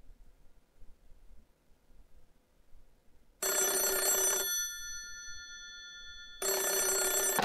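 A phone ringtone in a video game trills in two loud electronic bursts separated by a short quieter pause, after near silence.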